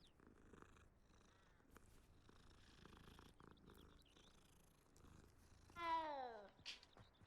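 A cat in the video game Hogwarts Legacy purrs faintly and steadily, then lets out one loud, rising meow near the end.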